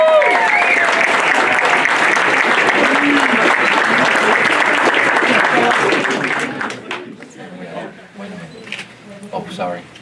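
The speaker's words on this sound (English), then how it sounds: "Now applause." A crowd applauds at a college scholarship signing, loud and dense for about six seconds before it thins out, with scattered claps and people talking nearby afterward.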